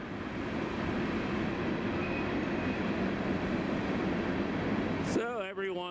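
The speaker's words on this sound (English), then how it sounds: "You do have an active railroad line going through the gorge." A train rumbles steadily past on a railroad line through the New River Gorge, a continuous loud roar of rolling wagons, ending abruptly with a brief whistle-like tonal sound near the end.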